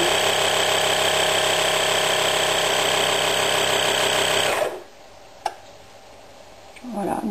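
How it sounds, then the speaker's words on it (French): A VACSY vacuum sealer pump drones loudly and steadily for about four and a half seconds, then cuts off. A brief click follows, then quiet sealing hum and faint voice. "la machine met tout vide et ensuite elle soude toute seule comme une grande"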